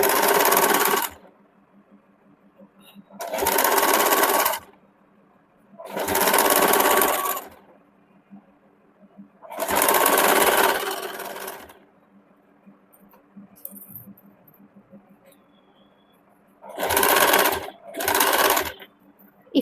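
An electric sewing machine stitches a sleeve seam of a salwar suit in about six distinct runs of a few seconds each, loud and close, separated by near silence.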